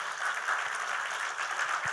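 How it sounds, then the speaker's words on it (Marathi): Loud, steady applause from a seminar audience fills the whole stretch as a dense, continuous wash of clapping with no voices over it. "स्वतःसाठी जोरदार टाळ्या वाजवा."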